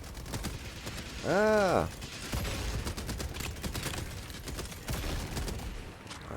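Helldivers 2 gunfire from bots, with continuous rattling shots and a swooping electronic tone in a busy combat mix, under an excited shout and chatter.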